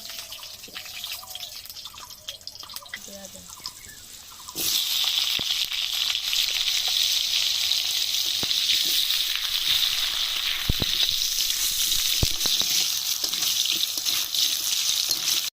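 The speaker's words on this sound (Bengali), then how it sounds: "এবার আলুগুলোকে আগে ভেজে নেব।" Potatoes frying in mustard oil in a kadai start with quiet kitchen ticks and drips. Then a loud, sudden sizzle rushes in as they hit the hot oil and holds as a steady, close crackle with scattered pops.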